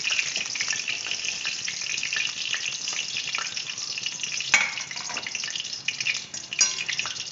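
Capsicum fries in oil in a pan for a northeastern-style veg jalfrezi, a bright steady sizzle with crackling bursts and a couple of louder spatters near the end, close and without talk.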